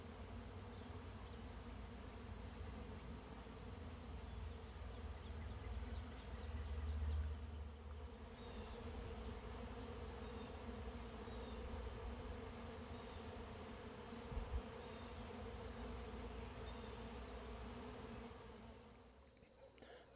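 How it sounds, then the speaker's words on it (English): A swarm of bees moving into a swarm trap box, a faint, steady buzzing hum from many insects that holds for about twenty seconds before fading out. "Got a swarm moving in."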